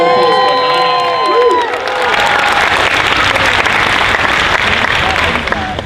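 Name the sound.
audience applause and cheering at a costume contest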